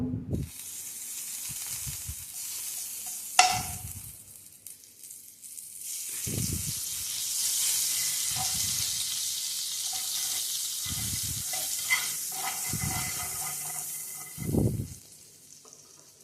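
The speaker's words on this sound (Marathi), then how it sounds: "तयार झालेले पाव दोन्ही बाजूंनी खमंग शेकून घेऊ" Pav bread toasting in garlic butter on a hot tawa, a steady sizzle and fry that swells and eases, broken by repeated soft low thumps and scraping as the buns are moved and turned.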